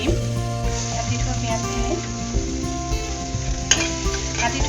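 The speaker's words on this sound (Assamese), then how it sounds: "পিঁয়াজখিনি অকণমান ভাজো" Chopped onions frying in a pot for a mixed vegetable soup, with a steady close sizzle and occasional stirring scrapes throughout, faint voice in the background.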